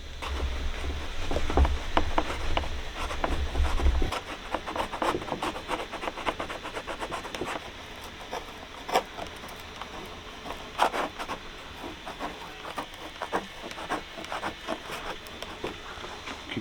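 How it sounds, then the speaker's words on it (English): A sharp-edged scraper works under the foam of a 1980s Mercedes 190 door card, giving a string of short dry scrapes and rasps at an uneven pace, close by, with a heavier low rumble in the first few seconds. "I'm just using a scraper with quite a sharp edge to it, just to try and get underneath"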